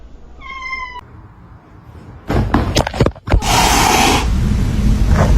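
A kitten meows once, clear and close at the start, followed by loud clattering and rustling household noise.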